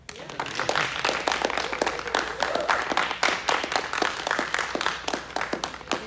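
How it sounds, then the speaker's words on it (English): Applause from a modest audience after a talk on student strikes, individual claps clearly separable in a fairly close, steady patter lasting several seconds. "Can we get a round of applause?"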